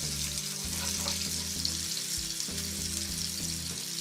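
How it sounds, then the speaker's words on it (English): Potatoes and onion fry in hot oil over a high flame, giving a steady, bright sizzle with soft, periodic stirring clunks beneath it. "There goes my potatoes into it. Mix it properly. Let it fry in the oil a little bit."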